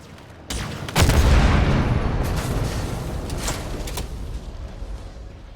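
Silos explode in Halo Infinite with a sudden loud boom, followed by a long rumbling roar and a few crackling blasts that slowly fade.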